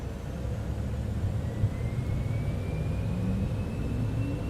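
A Citation X business jet's engines in a flight simulator game spool up into a steady, rising whine with a low rumble underneath, continuous and even throughout.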